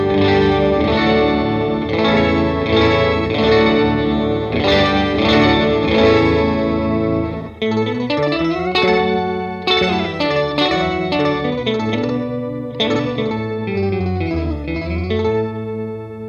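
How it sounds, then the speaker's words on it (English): Electric guitar played through an Earthquaker Devices Organizer pedal with the lag control raised, giving a thick organ-like chorused tone with a slightly delayed doubling; continuous chords and melodic runs, loud and close, with no talking. "by turning up the lag, it actually delays the digital signal"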